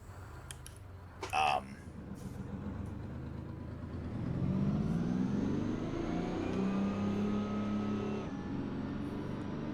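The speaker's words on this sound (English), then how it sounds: "it doesn't sound good when the engine speed suddenly jumps like that" Peterbilt 389 truck engine in American Truck Simulator revving up, rising in pitch over several seconds and holding high before dropping off, loud and steady after a brief bump near the start.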